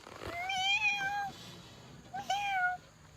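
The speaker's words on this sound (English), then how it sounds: "That's exactly what a cat sounds like." Two clear, close meows from a cat, the first drawn out and the second shorter after a brief pause, over a quiet background.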